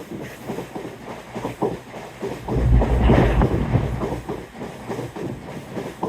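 A train rumbles past close by on the seafront at Teignmouth, with rhythmic clacking of wheels over rail joints building to a loud, heavy roar in the middle before easing off.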